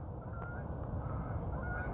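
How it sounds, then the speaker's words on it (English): Geese honking in Oklahoma, heard from a distance as a few faint, thin calls over a steady low rumble of engine or wind noise. "See the geese? That's Oklahoma geese."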